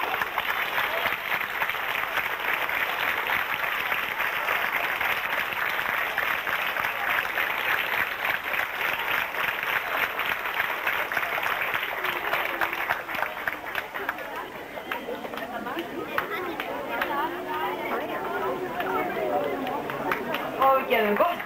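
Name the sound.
audience applause at an award ceremony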